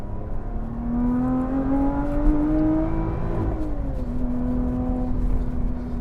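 A Lotus Evora GT430 Sport pulls hard on the road, its engine note climbing steadily, dipping at a shift, then rising again, loud and close throughout.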